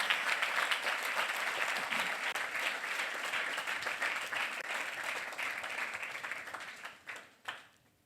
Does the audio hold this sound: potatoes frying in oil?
no